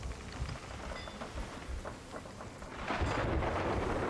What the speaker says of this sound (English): Oh, we're actually in the storm.